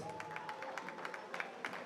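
Crowd applause and cheering in the stands at an indoor arena soccer game, a faint, distant, continuous wash of clapping with scattered louder claps and a thin tone running beneath.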